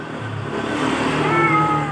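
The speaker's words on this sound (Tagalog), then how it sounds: "Nag-aaway itong dalawang pusa." Two cats square off in a fight, yowling in a long, drawn-out, wavering caterwaul that holds steady and loud from start to finish, with faint background noise beneath.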